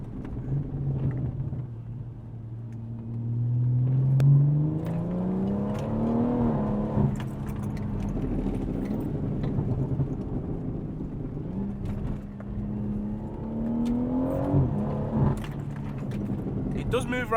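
A BMW M140i accelerating on a wet road, its engine note climbing steadily through the gears as a close, rumbling drone, with a voice talking over it.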